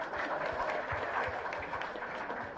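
An audience at a national drone awards ceremony claps in a dense, steady applause that fills the whole moment at moderate volume, sounding like a sizable indoor crowd, with no speech over it.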